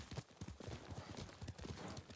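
Horse hooves clip-clopping at a steady walking rhythm in the samurai action game Ghost of Tsushima, close and moderately loud, with faint background ambience and no talk.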